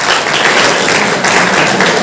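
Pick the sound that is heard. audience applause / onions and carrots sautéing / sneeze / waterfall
audience applause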